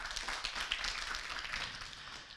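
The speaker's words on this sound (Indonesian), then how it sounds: "Tepuk tangan lagi boleh." Scattered clapping from a university orientation audience at IAIN Ponorogo, fairly faint and thin, a few hands rather than a full crowd, with no talking over it.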